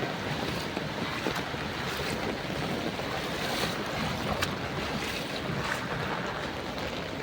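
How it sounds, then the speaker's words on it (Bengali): Rain falls steadily on a flooded street in Rishra, Hooghly, a dense, even hiss with faint scattered taps and no voices. "টুক টুক টুক টুক করে বৃষ্টি পড়েই যাচ্ছে"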